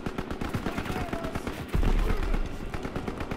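Rapid automatic gunfire in the World War II shooter Call of Duty: WWII, a dense burst of close shots followed by a heavier booming blast, with voices faintly underneath.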